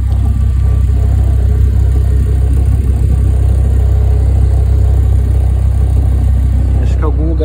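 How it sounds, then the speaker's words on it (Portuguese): Exhaust of a Jetta MK5 rumbling steadily up close, with a low continuous drone escaping from a small hole in a weld; the tone stays even throughout with no revving. "aqui no escapamento atrás tá certo, né? Saindo um pouco ronco, mas aqui também tá saindo ronco."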